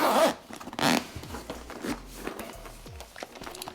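A Waterfield Shield carry case for the Apple Vision Pro is unzipped up close in a few quick zipper pulls, followed by soft handling rustles and light taps as the case opens.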